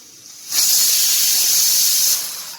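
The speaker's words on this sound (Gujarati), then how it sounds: "આ બાજુ આપણે ડાંભો બફાય છે" Dambho vegetable steaming in a pot, a loud steady hiss that rises abruptly, holds for about a second and a half, then fades away.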